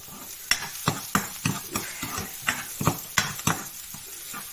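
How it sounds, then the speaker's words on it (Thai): Cabbage stir-fried with oyster sauce in a home kitchen, a steady sizzle broken by a dozen sharp scrapes and clanks of the spatula against the pan at an uneven rhythm, close and fairly loud with no talking. "จะมาผัดกระลำน้ำมันหอยแบบง่ายๆของเรา"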